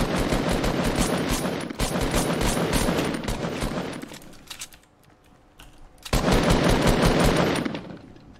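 Rapid bursts of automatic gunfire in Fortnite, dense and continuous, pausing briefly before another sustained volley of game-style shooting.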